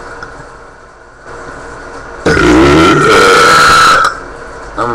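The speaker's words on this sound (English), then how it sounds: "these are really loud burps" A person lets out a long, loud, deep burp that croaks for about two seconds, close to the mic, with quieter room noise before and after.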